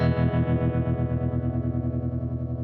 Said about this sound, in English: And it gets especially fluttery when you have a lot of that harmonic tremolo blended